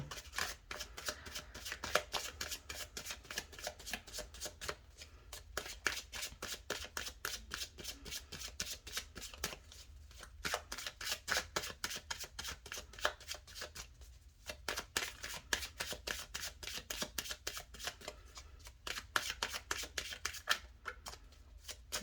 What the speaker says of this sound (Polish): tasuję karty